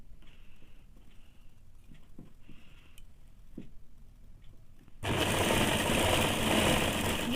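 A sewing machine stitching a saree blouse runs in a steady loud whir after about five seconds of quiet, soft handling sounds.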